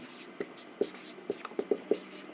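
Pen strokes and taps of handwriting on paper or a board while working a 3×3 matrix inverse problem, six or seven short scratchy marks in an irregular rhythm, close and fairly quiet, with no speech.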